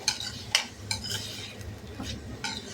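Boiled chickpeas for a spicy chana fry stirred in a pan, with several sharp spoon scrapes and clinks against the metal over a soft, low background sizzle, close by and fairly quiet.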